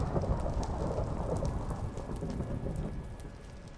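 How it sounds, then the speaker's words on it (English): Minecraft rain pours steadily with a dense, constant hiss and patter, loud and close, continuing unbroken with no voices over it. "Maybe that'll make the rain go away."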